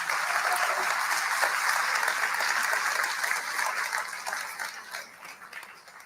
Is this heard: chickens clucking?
no